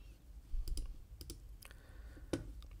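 Sharp mouse clicks on a checkbox and a save button at a computer, a few separate quiet clicks spread out with soft faint clicking in between, no talking.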